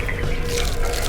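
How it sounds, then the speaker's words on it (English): Water splashes suddenly onto a presenter during a water tank driving test, a dense, steady wash of spray and pouring water that lasts throughout, close and loud with no talking. "out of the blue, I've been hit with water while introducing this challenge"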